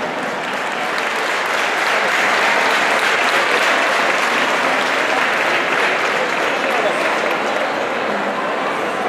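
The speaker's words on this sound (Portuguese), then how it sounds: "uma salva de palmas" Sustained applause from an audience for a group of folk singers performing traditional Janeiras songs in Amarante, Portugal, a dense, steady clapping that stays loud throughout.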